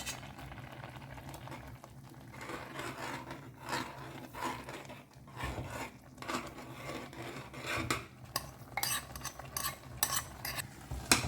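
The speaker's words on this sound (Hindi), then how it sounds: "तो अब इसमें डालते हैं फ्राई किया हुआ रवा यानी सूजी." A spoon stirs fried semolina into a cucumber and jaggery mixture in a pot, giving soft scraping and wet shuffling strokes in an irregular rhythm, close and fairly quiet, with no voices.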